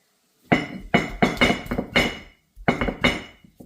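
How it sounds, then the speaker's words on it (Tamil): A series of sharp knocks from crushing garlic, about eight hard pounding strikes in an uneven rhythm, close by with a clinking edge, then a pause and more hits. "பூண்டை நச்சுக்க நச்சுக்க நசுக்கிட்டு வந்துடலாம்"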